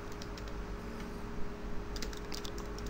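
A username is typed on a computer keyboard as a quick run of soft, close key clicks over a faint steady background hum, with no talking.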